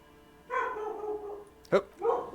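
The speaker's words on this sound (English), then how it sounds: "The dog is barking." A dog barks inside a house, a few short barks heard indoors over a steady background of game music and a voice talking.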